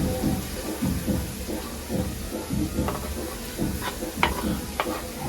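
Onion and capsicum frying in a pan for pasta, with a close, steady sizzle and repeated scraping and stirring strokes over medium heat, no voices present.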